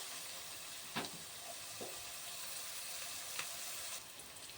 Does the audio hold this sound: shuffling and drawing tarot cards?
no